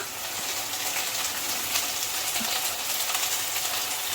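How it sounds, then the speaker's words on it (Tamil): Fried masala is added to a pot of pumpkin sambar and stirred in, producing a continuous bubbling sizzle with faint stirring scrapes and no voices. "இப்போ இதில் நம்ம இந்த பொரிச்சு வச்ச இந்த மசாலாவை வந்து நம்ம ஆட் பண்ணிக்கலாம்"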